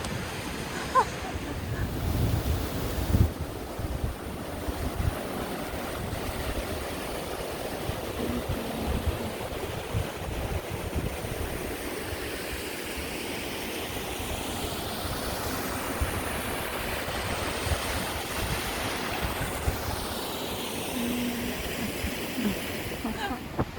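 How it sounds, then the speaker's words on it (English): Strong wind blowing outdoors on a hiking trail, a loud continuous roar with gusty buffeting against the microphone, sounding like surf, steady throughout with no clear talk. "here comes the wind"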